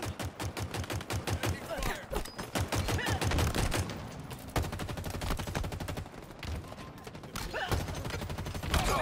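Rapid bursts of automatic gunfire from Halo Infinite on PC, on the map Bazaar, come as dense repeated volleys with short gaps between them. Loud game effects fill the whole stretch, with occasional voices mixed in.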